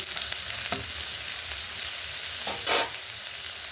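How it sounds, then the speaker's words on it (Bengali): Onions sizzle and fry steadily in a pan while being stirred, with a few louder scraping stirs breaking through the constant close hiss; no voices. "এবার পেঁয়াজগুলো আমি নেড়ে নিচ্ছি।"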